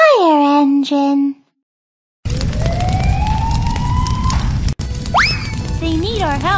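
After a brief voice, a video game fire engine siren wails with a long, rising tone, then sweeps up and down again over a rumbling engine.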